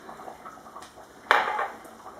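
Semolina and sugar being mixed in a bowl, a few soft scrapes followed by one sharp clink of a spoon against the dish, close and quiet.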